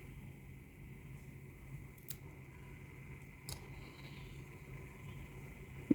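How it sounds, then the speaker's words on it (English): Scissors cut through spare crochet yarn in a couple of quiet, sharp snips over a low steady background hum, close by and with no one speaking. "So now cut this extra yarn"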